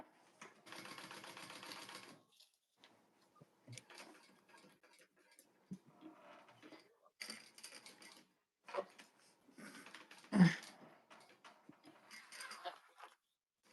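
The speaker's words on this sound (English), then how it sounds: "I'm top stitching on the back panel." Sewing machine top stitching through a seam on the back panel of a fabric garment, heard in short bursts of quiet mechanical ticking that stop and start, with faint talk in the room between runs.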